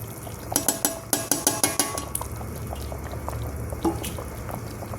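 Mackerel pempek fish cakes going into a pot of boiling water, with a quick run of metal clinks and clatters against the pot early on, then a quieter liquid simmer and a few scattered knocks, close by and without talk.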